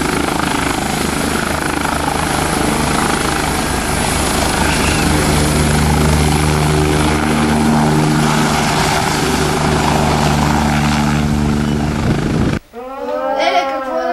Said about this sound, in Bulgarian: Супер, да я пратя по хеликоптер